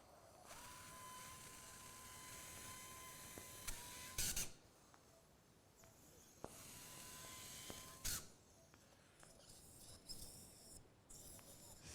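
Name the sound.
surgical drill drilling bone during endoscopic surgery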